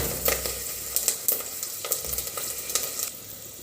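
Chopped ingredients fry lightly in hot oil in a pan, giving a soft, continuous sizzle broken by sharp crackles and pops as they are stirred, with no talking.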